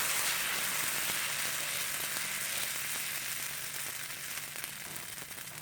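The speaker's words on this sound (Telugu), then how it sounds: "ఇప్పుడు మనం ఈ పిండితో పెనం మీద దోశ పోస్తున్నామండి" Barnyard millet dosa batter sizzles steadily on a hot pan, a close, continuous crackling hiss that eases slightly toward the end.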